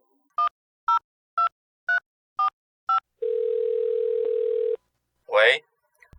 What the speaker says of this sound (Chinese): 敲电话叫阿达拉来参详